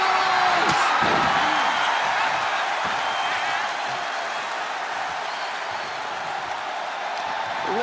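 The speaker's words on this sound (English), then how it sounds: "Listen to this crowd." A large wrestling arena crowd roars and cheers in a steady, loud wash of noise, with a couple of sharp slam-like thuds early on and the cheering holding strong throughout.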